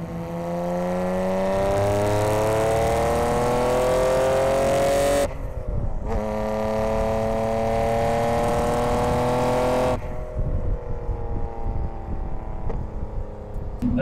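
A 600 hp Nissan Skyline R33 GTR with twin turbos drives hard, its engine rising in pitch through long pulls, dropping sharply at each gear change, then climbing again, loud and close throughout.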